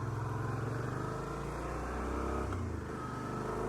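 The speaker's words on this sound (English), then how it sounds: "it really feels good to be back out on the bike, just cruising along" Suzuki V-Strom 650 motorcycle cruising along a busy road, a steady low engine drone blended with constant wind rush from onboard, holding an even pitch with a slight dip partway through.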